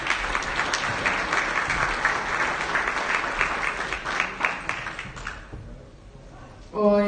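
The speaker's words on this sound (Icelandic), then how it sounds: "Það byrjaði bara að klappa fyrir þeim" Audience applause for women's winners at the Icelandic darts championship, a dense sustained clapping that fades out toward the end before a voice comes in.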